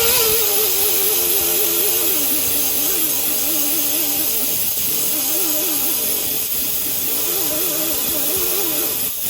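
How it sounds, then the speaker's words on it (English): A rotary grinder buffs the inside of a flat tire to roughen the rubber before a patch goes on, a loud steady whirring hiss with a wavering hum that runs continuously, with no talking. "we're going to grind it down so the patch has something to stick to"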